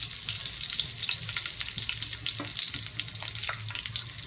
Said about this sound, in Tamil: கடுகு இந்த பொரியிட்டோம்